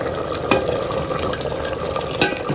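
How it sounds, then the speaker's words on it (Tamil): Sambar with brinjal and drumstick bubbles in a pot, a steady close simmer broken by two louder knocks or stirs. "நல்லா கொதிச்சுட்டு இருக்கு"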